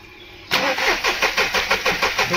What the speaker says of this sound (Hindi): अब हम करते हैं गाड़ी को स्टार्ट